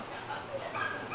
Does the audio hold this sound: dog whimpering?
yes